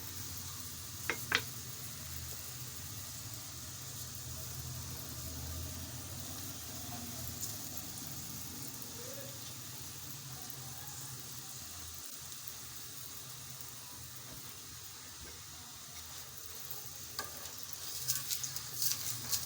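A radish paratha fries in a pan, giving a soft, steady sizzle throughout, broken by a few faint scrapes and clicks from turning it.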